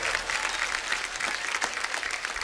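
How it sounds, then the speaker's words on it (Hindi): Dense studio audience applause on a Hindi comedy talk show greets Shilpa Shetty, Badshah and Manoj Muntashir, a steady, full wash of clapping throughout the short moment. "जोरदार तालियां शिल्पा शेट्टी, बादशाह और मनोज मुंतशिर के लिए।"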